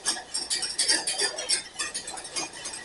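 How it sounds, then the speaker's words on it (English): A whisk clinks and scrapes steadily against a metal pan while béarnaise sauce is stirred over low heat, a quick, close, moderately quiet rhythm of small metallic ticks. "And you're gonna keep adding, keep stirring, until it clings to your whisk."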